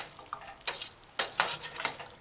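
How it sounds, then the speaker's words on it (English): Ketchup gets stirred into a chickpea, mushroom and pepper stew, a few soft scraping strokes in the pot with a faint sizzle underneath, close and quiet. "half quarter cup ketchup and stir it in a few times"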